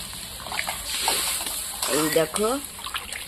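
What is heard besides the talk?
pouring water into pot of sautéed potatoes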